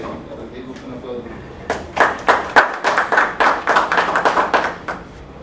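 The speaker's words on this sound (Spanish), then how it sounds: "Entonces le damos la bienvenida a Gloria, le recibimos un aplauso." Applause in a lecture hall welcoming a guest speaker at an academic talk on wildlife biodiversity management. It starts faint, then swells into steady clapping from a modest audience and trails off after a few seconds.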